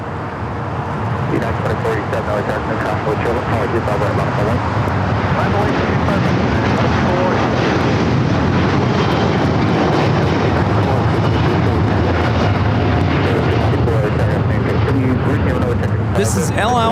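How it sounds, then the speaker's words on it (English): An El Al Boeing 787-9 Dreamliner in retro livery takes off from LAX bound for Tel Aviv, its engines a loud, sustained roar that holds steady throughout the run. "This is El Al Flight 6 taking off to Tel Aviv on the 787-9 Dreamliner in the retro livery"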